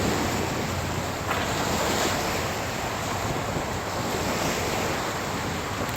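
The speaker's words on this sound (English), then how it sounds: "The big waves, I got my shoes wet." Constant wash of big ocean waves breaking on shore, loud and unbroken, mixed with gusty wind rumble against the microphone.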